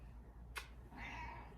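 A female house cat acting wild lets out a single faint, drawn-out meow in a quiet room, just after a short sharp knock.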